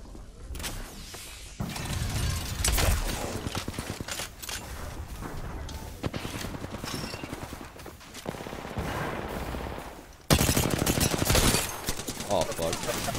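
Heavy Apex Legends gunfire rattles on almost without pause. Loud rapid automatic bursts run back to back with brief breaks, and a sharp jump in intensity comes near the end.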